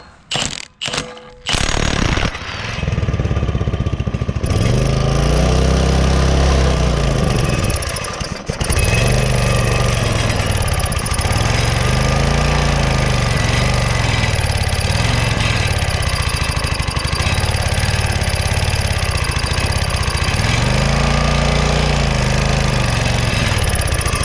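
A minibike factory engine runs on brake cleaner after a few sputtering attempts, then holds a loud, rough, steady idle with rhythmic surging swells that repeat every few seconds, close up.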